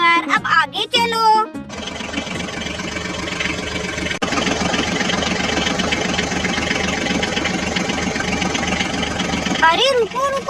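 A cartoon farm tractor's engine chugs steadily in a loud, continuous mid-pitched drone. It starts after a burst of animated voices at the beginning, and a brief voice cuts in again near the end.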